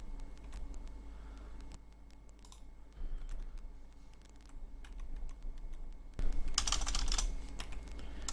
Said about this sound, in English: Just use your left arrow key on your keyboard.